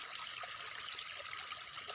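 Irrigation water runs into a farm field during a second watering after sowing, making a faint, steady trickling hiss that continues throughout with no voices.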